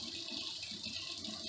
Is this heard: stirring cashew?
no